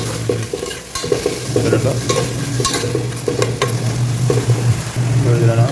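Sliced onions and green chillies frying in a pan make a loud, close sizzle, with stirring scrapes and clinks over a steady low hum. A brief word is spoken.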